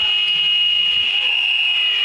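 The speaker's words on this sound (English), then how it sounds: "the buzzer will surely go before we can get started again" A netball match ends at an independent schools league game on an indoor court, with a loud, steady electronic buzzer sounding continuously and unbroken for over two seconds, with no talk over it.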